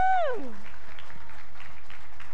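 A crowd at a school health campaign launch applauds children with a faint, steady patter of clapping, following a brief falling tone at the start.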